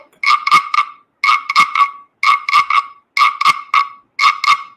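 A voice imitates a frog croaking, repeating a tight cluster of three or four sharp nasal croaks in five evenly spaced bursts, loud and close with clean gaps of silence between.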